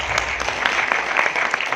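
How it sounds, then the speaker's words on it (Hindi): Audience applause at a Banjara community harmony conference attended by a deputy chief minister, with dense, steady clapping from a crowd that keeps going evenly throughout. "ताली बजा दो"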